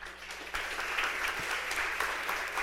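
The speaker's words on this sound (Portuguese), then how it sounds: "Palmas para o grupo do 10." Applause from a seated group in a classroom or workshop, a steady wash of clapping that holds at moderate level for about two seconds after a soft start, with no voices over it.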